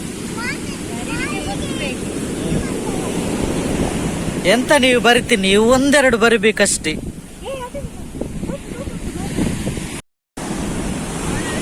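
Surf rushes and roars continuously on the shore at Kanvatheertha beach, with heavy wind buffeting the microphone, while people talk and shout nearby over the noise of the sea.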